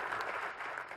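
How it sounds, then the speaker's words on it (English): An audience at an international summit session applauds, a dense, even wash of many hands clapping at moderate volume from a distance, with no talking. "Let's just take a moment and applaud these people"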